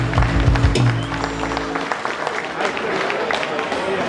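A concert audience at a band's 30th anniversary show bursts into loud, dense applause and crowd clapping after a moment of voice and music.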